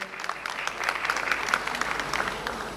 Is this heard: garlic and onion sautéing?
no